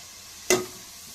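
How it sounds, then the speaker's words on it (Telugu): Chili powder and turmeric hitting mushrooms in hot oil for a curry, giving one brief burst of sizzling and stirring at mid-clip over a quiet background, with no talk. "అదంతా ముక్కలకి బాగా పట్టేలా ఫ్రై చేసుకోవాలి"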